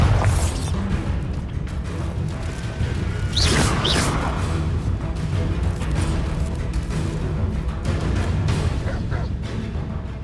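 Bombarda spell in Hogwarts Legacy detonating with a loud, booming blast and whooshing burst, then a long rumbling stretch of crashing battle noise.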